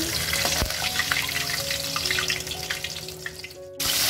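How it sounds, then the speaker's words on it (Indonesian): Loud, close sizzling and bubbling of chili paste frying in a pan, with a sharp clink partway through and a brief drop before the hiss resumes. "ini bumbu sambalannya saya goreng ya"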